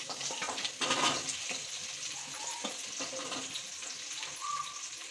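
Three large sliced onions with four cut green chillies frying in a pan for fish biryani: a soft, steady sizzle with an occasional stir, faint and close, no talking.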